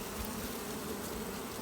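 Honeybees from a hive with emerging brood, near the start of a fall honeyflow, buzz in a steady, dense hum that holds at an even loudness for the whole stretch with no talking.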